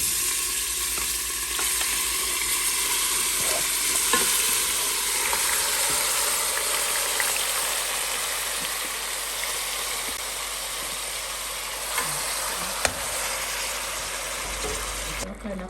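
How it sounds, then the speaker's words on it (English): Hot oil sizzles steadily in a pan or pressure cooker while beef stew is being started, a dense, even crackle with occasional stirring scrapes and clicks throughout. "gonna add some oil to a hot pan or hot pressure cooker"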